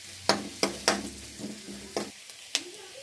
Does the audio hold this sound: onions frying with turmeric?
yes